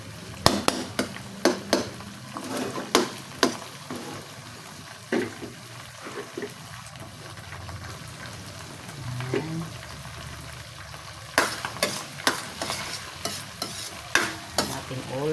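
Corned beef fries in a pan with a low steady sizzle, broken by runs of sharp rhythmic scraping and tapping from a utensil stirring against the pan, close by.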